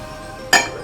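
Pizza dough in a bowl is covered, a single brief clink of a lid or plate landing on the rim after near silence, short and fairly close.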